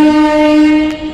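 A train horn blares loud and close as a train pulls into Naihati station, a single sustained tonal blast with a brief metallic click near its end.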